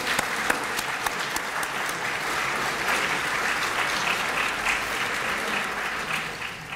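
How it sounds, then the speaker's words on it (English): Applause fills a health policy conference room, an even, sustained patter of many hands clapping at moderate volume with a few sharper individual claps standing out. "can we give a round of applause to Mark,"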